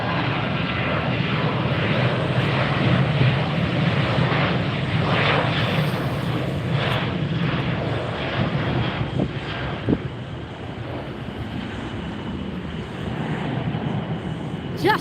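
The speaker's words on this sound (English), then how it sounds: "This is flight 3087, 737, 800 series, headed to Miami" Boeing 737-800 jet airliner departing Tampa airport, a steady broad engine roar that stays loud and near throughout, with faint wind noise and no speech.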